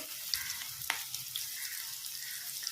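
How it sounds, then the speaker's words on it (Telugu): Cornflake-coated onion rings drop into hot oil with a faint, steady frying hiss and a small splash-like crackle, quiet and close with no one speaking. "ఇప్పుడు ఇవి ఒక్కడికి ఆయిల్లో వేసుకోవాలి."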